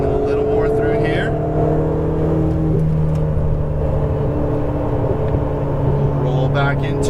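Ferrari 488 GTB engine on light throttle during track driving, a steady sustained drone with rising tone as the throttle is applied, heard from inside under a driver's instructional talk.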